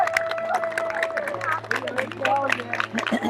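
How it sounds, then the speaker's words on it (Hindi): Crowd clapping and cheering at an International Yoga Day gathering, mixed with babble and a voice over a steady hum, irregular claps scattered throughout at moderate distance. "सबके लिए तालियां।"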